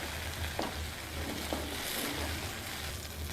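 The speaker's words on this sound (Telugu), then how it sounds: "బీరకాయ ముక్కల్ని బాగా వేగనిద్దాం" Ridge gourd pieces fry in hot oil, giving a steady, even sizzle with soft bubbling that lasts throughout and a few faint stirring taps, close and with no talk.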